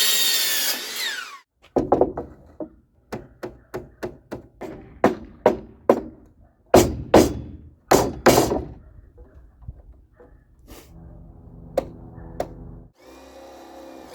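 Wooden face board for a handmade table being cut with a power tool, a series of short, sharp bursts with pauses between them, close and fairly loud, no talking.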